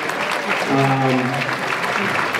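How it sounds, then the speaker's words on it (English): Parents at a school holiday concert applaud themselves, a steady wash of clapping that fills the hall. Someone speaks briefly over it partway through. "I would like everybody to just give themselves a round of applause for showing up for your children tonight."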